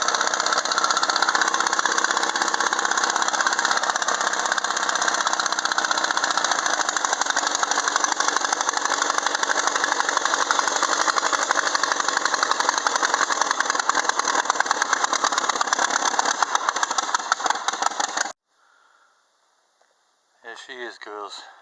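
A 1948 Ford 8N tractor engine runs steadily for a long stretch, a loud, even chugging drone close by. It then cuts off abruptly and a voice speaks in the quiet afterward.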